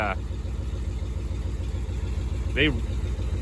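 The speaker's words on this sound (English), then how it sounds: "Arguably one of the best sounding gas engines from the 70s." A 1960 International BC180 truck's old gas engine idles with a steady, even low rumble close by, while a person briefly talks over it.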